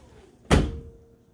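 A single sharp door slam lands midway, a loud thud that rings briefly and fades, set against a quiet room.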